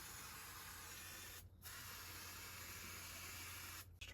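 Brake cleaner sprays close onto a brake caliper, hissing in long continuous bursts, broken by two short pauses before the spray starts again.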